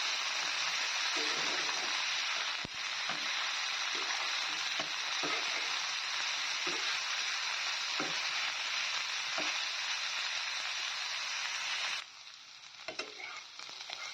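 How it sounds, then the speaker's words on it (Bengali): Cauliflower, potatoes and green chillies fry in a pan with a loud, dense sizzle that holds steady, dotted with occasional stirring clicks, then drops sharply near the end, leaving a quieter crackle. "এবার সবগুলো সবজিকে ভালো করে ভেজে নিতে হবে।"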